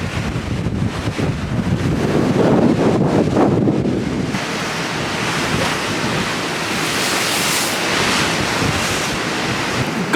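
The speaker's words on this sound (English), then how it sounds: "crazy waves, don't want to get my camera wet" Strong surf crashing and splashing against a very windy headland on the Kent coast near St. Mildred's Bay, loud and close, with heavy wind buffeting the microphone throughout.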